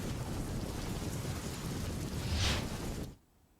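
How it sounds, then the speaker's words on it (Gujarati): Heavy, incessant rain pours over flooded Porbandar as a steady broadband wash, loud and continuous, then abruptly cuts out near the end. "અવિરત વરસાદ અને વરસાદના પગલે અનેક વિસ્તારોમાં પાણી ભરાયા."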